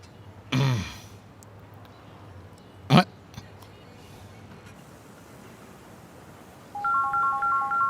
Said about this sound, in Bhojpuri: अचानक के कर फोन आ गई।